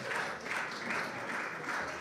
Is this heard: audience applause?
yes